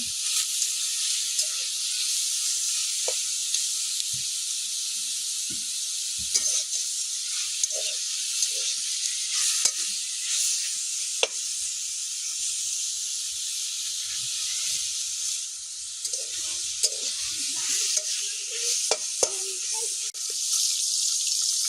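Greens, garlic and green chilies fry in oil with a long, even hiss and scattered small crackles and pops, steady and close throughout with no talking.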